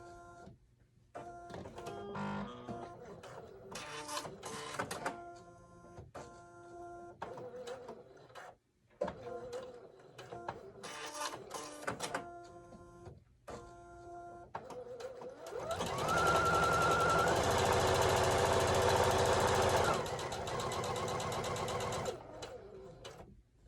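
A sewing machine stay stitches a princess seam jacket at a 5/8 inch seam allowance, running in short close bursts of rapid mechanical whirring before one long steady loud run near the end.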